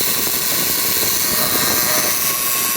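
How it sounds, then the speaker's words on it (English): Noisy AC compressor on a 2017 Subaru Forester with about 20k miles, giving a loud, steady whirring hiss that holds at an even level with no voices over it. "the noise is getting louder and louder. And it's from the compressor for sure."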